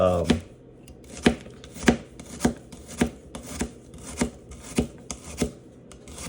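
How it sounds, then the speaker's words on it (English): A knife cuts a potato into thin slices for frites, with about ten crisp, evenly spaced chops landing in a steady rhythm on a board, close and clear with no talk. "we're just gonna go straight down and do thin little slices"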